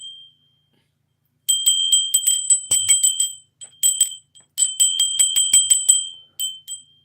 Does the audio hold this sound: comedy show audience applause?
no